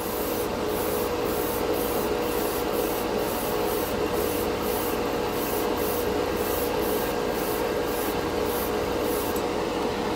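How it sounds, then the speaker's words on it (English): An airbrush sprays black acrylic paint at 15 PSI in one loud, unbroken hiss held close by for the whole stretch, with a faint fluttering pulse on top and no voices. "If you're going with a thicker acrylic on this airbrush, you need to only go about 20 PSI and you should be able to push it right through."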